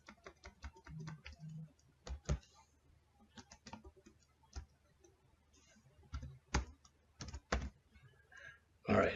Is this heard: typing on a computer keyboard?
yes